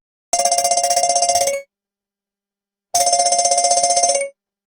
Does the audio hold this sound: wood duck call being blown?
no